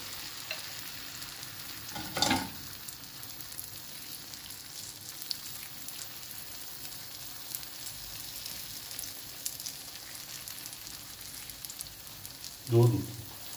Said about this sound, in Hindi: तेल हमारा गर्म हो चुका है, हम मटेरियल अपना ऊपर से डालेंगे।